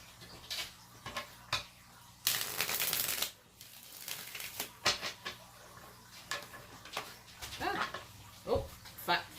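Tarot cards are shuffled in a cluster of crisp riffling and a sharper burst of flicking, with soft taps and handling noises around it and a voice speaking quietly nearby.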